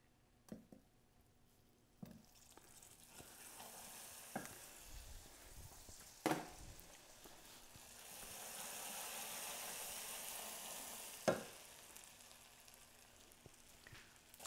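Butter hitting hot caramel for a salted caramel sauce gives a quiet, low sizzle, broken by several sharp scraping or knocking clicks and a swell of bubbling noise midway, without speech.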